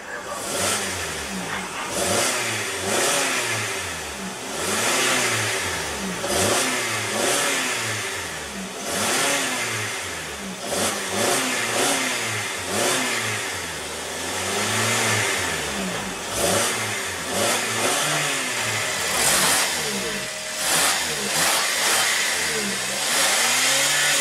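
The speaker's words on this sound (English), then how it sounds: "let's go ahead and rev it up" A 2015 Kia Sportage engine revs up and down repeatedly in rising and falling surges, loud and close, with no talking.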